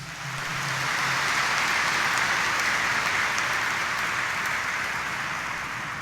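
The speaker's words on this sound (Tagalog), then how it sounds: "pumalakpak tayo ng malakas." A church congregation at a Sunday Mass in Quiapo claps loudly together, a dense, even wash of applause that swells and holds for several seconds before easing slightly.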